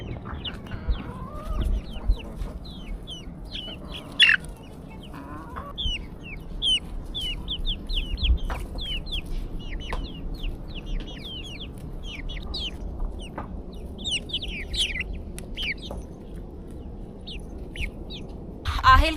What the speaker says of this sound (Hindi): टोटल 13 मुर्गियाँ लेके आए थे